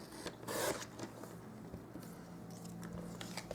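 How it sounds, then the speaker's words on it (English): Card paper being trimmed for a handmade card with a paper trimmer, a faint, brief slicing zip near the start followed by quiet light handling rustle and taps. "I'll give that another little trim here."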